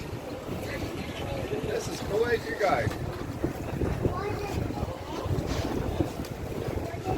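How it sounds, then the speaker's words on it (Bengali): Boats at Sanur jetty in Bali leaving for Nusa Penida, a continuous rumble of engines mixed with wind buffeting the microphone and sea wash, while people talk in the background. "এখান থেকে বোট ছাড়ে নুসাপিনিডার এই বোটগুলোই নুসাপিনিডাতে যায়"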